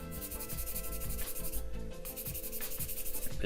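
A sanding stick rubs back and forth over a plastic part from a 1/170-scale Macross VF-1A model kit, giving close, quiet, rhythmic scratchy strokes with no talking.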